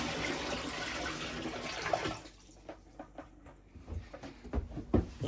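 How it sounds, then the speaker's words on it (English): A Whale Gulper pump drains a full van-conversion sink, a steady loud gurgling rush of water that cuts off after about two seconds, followed by scattered drips, splashes and gurgles into a test bucket. "I will fill this sink full of water and show you how this pump system works to drain that sink"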